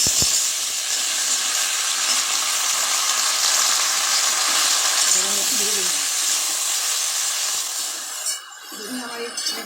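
Jujube fruits slide into hot oil with already-fried chillies for a sweet-sour pickle, raising a loud, continuous sizzle and hiss that eases near the end, with a few scraping stirs.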